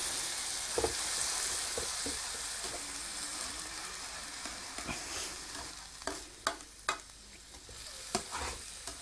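A stir fry with soy sauce sizzles steadily in a frying pan. A utensil stirs through it, and its scrapes and clinks come in a loose rhythm, louder toward the end, with no talking.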